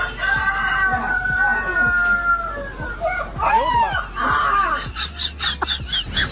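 A dog mimics a rooster crowing, letting out a series of rising and falling yowling calls beside its rooster friend, with a steady background hum and some layered noise throughout.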